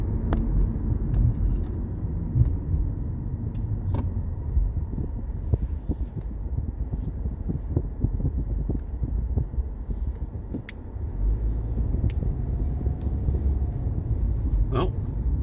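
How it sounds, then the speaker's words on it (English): A car drives through the streets of Northeast Philadelphia with steady road and engine rumble and wind buffeting. Occasional faint clicks and bumps come from inside the cabin. "Today we are going to ride through the streets of Northeast Philadelphia."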